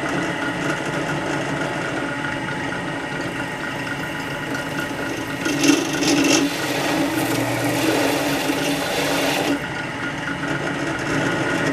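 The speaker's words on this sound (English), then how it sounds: "One level at a time on the drill, one step at a time." A drill bores into a wooden shadow box, a steady whirring motor drone running throughout with a brief louder burst partway through as the bit bites, close and continuous with no talking.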